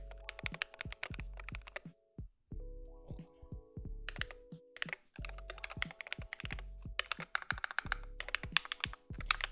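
Keys clack steadily and at close range on a Lord of the Rings themed mechanical keyboard, crisp tactile presses in fast bursts with short pauses between runs.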